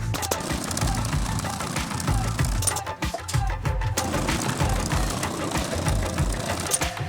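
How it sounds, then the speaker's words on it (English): A sewing machine stitching the white seam on a cricket ball runs continuously with a fast, rhythmic mechanical clatter, close up, pausing briefly midway before resuming its steady stitching. "we use the sewing machine to get the white stitch, the white seam on the ball"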